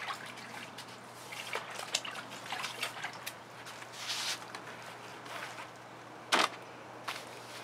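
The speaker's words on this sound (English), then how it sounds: "But I think it's important to rinse off the chain." A paint-covered chain is rinsed under water, giving irregular trickling and dripping with splashes and one sharp burst near the end, close and moderate.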